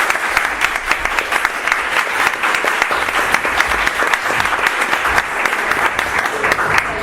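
Full audience applause after a talk on fantasy literature, dense steady clapping from many hands filling the room for about seven seconds, loud and close with a faint murmur of crowd beneath.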